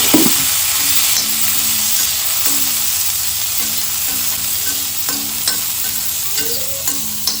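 Small onions and curry leaves fry and sizzle in a pan, with a constant crackling hiss and occasional stirring scrapes and clinks, close and fairly loud with no talking.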